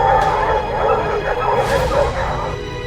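A pack of hunting hounds bays continuously while chasing wild boar, a dense, loud chorus of overlapping howls and yelps with a steady rumble of movement beneath.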